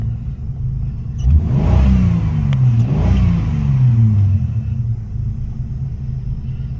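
A Ford XH Falcon's engine revs up and falls back twice over a steady idle, its deep rumble loud and close.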